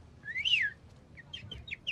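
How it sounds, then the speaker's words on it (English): A bird in the video game The Division gives a loud rising-and-falling whistled call, followed by a run of shorter, fainter chirps in a quiet outdoor setting. "It's just a bird."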